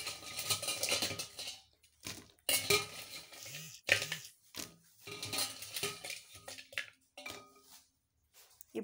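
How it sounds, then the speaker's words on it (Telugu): Pieces of raw tamarind dropped into a bowl, giving a series of short clattering knocks and clinks in uneven bursts with brief quiet gaps between them. "ముందు చింతకాయ బద్దలు వేస్తున్నాను గిన్నెలోని"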